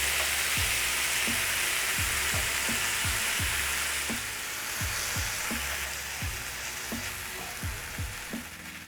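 Four tomatoes frying with aromatics for shakshuka, a thick steady sizzle throughout, close and even, dotted with frequent soft pops and bubbling crackles.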